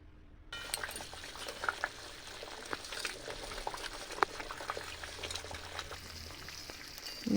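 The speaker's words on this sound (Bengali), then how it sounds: "এই দেখো, এবার কড়াই বসিয়ে উনুনে দিয়েছি, উনুনে ঘি হচ্ছে, দেখো" Ghee simmering in a wok over a traditional clay stove as butterfat separates from milk cream: a steady, close bubbling sizzle with scattered pops and crackles running throughout.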